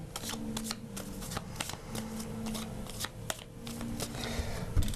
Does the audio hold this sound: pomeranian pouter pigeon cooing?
no